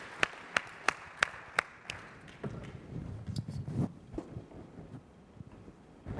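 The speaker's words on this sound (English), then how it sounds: "round of applause" Short round of audience applause at an airport passenger-experience conference session: a handful of sharp, separate claps at first, then softer scattered clapping and room murmur, fairly thin and moderate in level.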